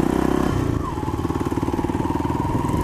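A dirt bike engine puttering along as it is ridden over slick, muddy clay, a steady close mid-pitched drone with rapid pulsing and a brief rev partway through.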